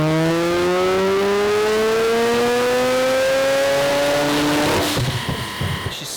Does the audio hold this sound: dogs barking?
no